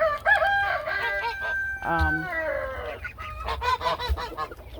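Five or six roosters crow loudly and close by, overlapping calls with honking and clucking from other poultry in the flock around them.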